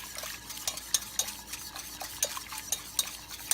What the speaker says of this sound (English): you want to stir it constantly